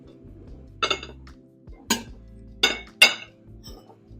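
Cutlery and dishes being taken out in a home kitchen, with several distinct metallic clinks and clatters spaced irregularly over a few seconds. The sounds are close and alone, with no talk.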